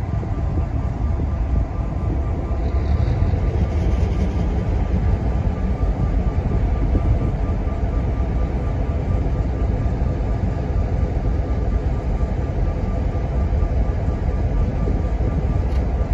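A freight train rolls slowly back into the CN rail yard, a steady rumbling roar of wheels and cars that stays loud and close the whole time, with no talk.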